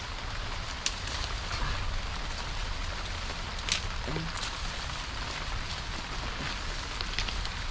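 Steady rain patters throughout on a small farm in Taiwan ahead of a typhoon, a dense even hiss with occasional brighter drips, close and continuous with no other clear sounds.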